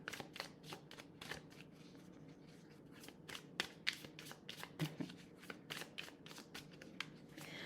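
Tarot cards being shuffled close up, with a quick run of crisp riffling snaps and soft slides at an uneven rhythm, fairly quiet.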